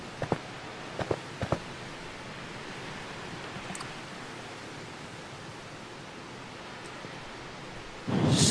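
Rain falls in a thunderstorm as a steady close hiss, with a few sharp cracks early on and a louder rumbling surge at the end.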